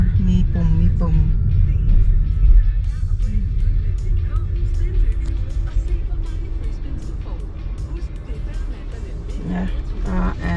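Kia e-Niro electric car driving along a road, with a steady low rolling hum of tires and cabin noise throughout and occasional clicks and bumps, heard from inside the vehicle.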